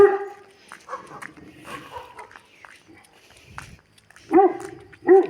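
A dog barks twice in quick succession near the end, loud and close, while chasing toward other dogs on their territory; faint talk and scattered noises fill the quieter stretch before the barks.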